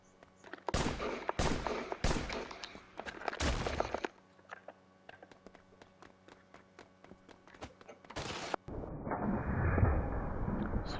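Loud gunfire from the Wanted Dead video game during the August boss fight: heavy broadband shots burst in a rapid run of cracks, with pauses and a rumbling roll of combat noise, no voices.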